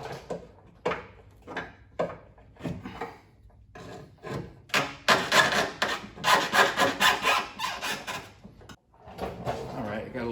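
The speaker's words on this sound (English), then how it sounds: "now we should be able to slide the rack off these dowels here" Scraping and sliding metal on metal as a car steering rack is worked off its locating dowels during an engine repair involving the oil pan, rear main seal and motor mounts, a run of close rubbing strokes with knocks between.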